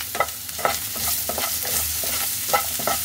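Fried onion and capsicum for chilli paneer Maggi are stirred in a hot pan with salt and black pepper, giving steady close sizzling broken by repeated scraping strokes of the spoon.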